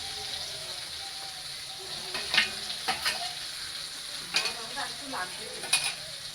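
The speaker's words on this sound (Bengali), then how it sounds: "ভাজা আলুগুলো দিয়ে দিব, দিয়ে সাথে একটু কষাবো, মশলার সাথে কষাবো আলুগুলো" Already-fried potatoes being stir-fried with spices in a pan for a rohu fish curry: a soft, continuous sizzle broken by repeated scraping stirs at irregular intervals, fairly quiet and close.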